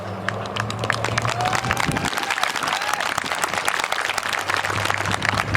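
Audience at a high school senior awards ceremony applauding the seniors, dense sustained clapping from many hands, loud and even from start to finish, with a low hum under the first two seconds.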